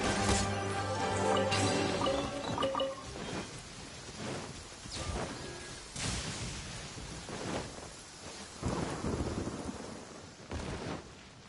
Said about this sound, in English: The sound of the rain scares them away